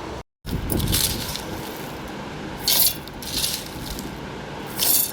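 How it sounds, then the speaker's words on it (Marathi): A mixer grinder whirs steadily, with rattling bursts as dried orange peel pieces tumble and break inside the jar, loud and close. "आता हे आपण मिक्सरमधून बारीक करून घेऊया"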